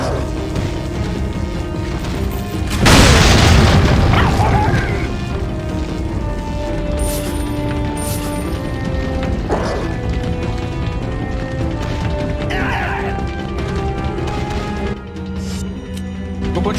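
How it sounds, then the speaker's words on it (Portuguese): Explosions in Resident Evil 4 Separate Ways: one big, loud blast early on, followed by scattered thuds and crashes under constant game noise. "Continuar explodindo eles."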